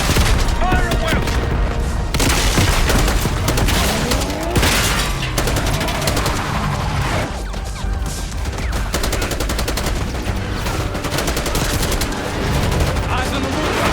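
Continuous heavy gunfire in Call of Duty Black Ops 6, with dense overlapping automatic bursts and occasional booms, loud throughout with voices faintly mixed in.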